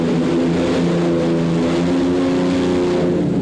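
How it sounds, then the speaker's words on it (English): A competition pulling tractor powered by a Rolls-Royce Merlin Spitfire aero engine at an indoor European tractor pulling event in Rotterdam, roaring loud and steady at full power throughout, a dense droning howl. "piloting this Rolls-Royce Merlin engine that came out of a Spitfire"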